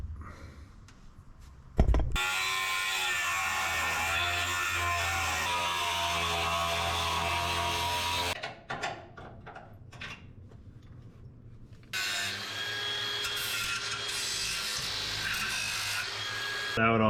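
Power tool cutting a notch out of a Ford F100 truck frame, a loud steady grinding whine for several seconds that cuts off, then short bursts and a second sustained run.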